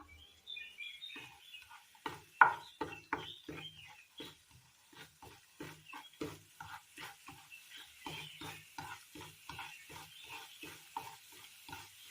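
Urad dal sizzles in hot oil while being stirred, a steady run of short scraping taps and crackles over a soft frying hiss, fairly close, with faint chirps in the background.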